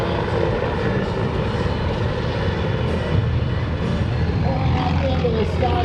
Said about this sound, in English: keep your eyes on the airplane as he stabilizes the airplane on that vertical line